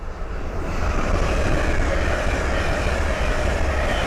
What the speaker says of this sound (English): the next train to pass by is a pair of Hull Trains 801s from Leeds to London King's Cross